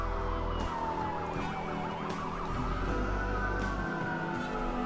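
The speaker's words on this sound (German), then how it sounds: "Wow, da ist ein Polizeiauto" A police car siren in the video game Watch Dogs wails in a steady rising and falling cycle, loud and continuous over low engine rumble, with no talking.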